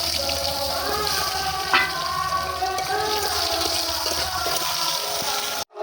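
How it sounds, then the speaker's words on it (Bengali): Potatoes fry in hot oil left over from frying snakehead fish, giving a loud, steady, continuous sizzle with a faint tonal hum running underneath until it cuts off at the end. "এই মাছের তেলে আলুগুলো ভেজে নেব।"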